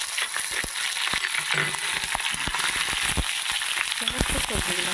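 Chopped vegetables hit hot oil with curry leaves and set off a dense, steady sizzle. Sharp pops and crackles break through it, and a few clatters of stirring come in close up.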